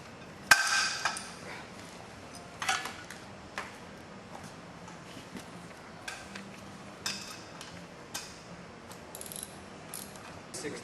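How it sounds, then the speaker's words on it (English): A 9/16 wrench and ratchet tightening bolts during an Ultralift installation, giving a few sharp, separate ratcheting clicks spread through the clip over a quiet background. "A 9/16 wrench and Ratchet."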